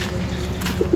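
Pigeons in a breeder cage coo softly and continuously, close by, with a couple of slightly louder coos near the end.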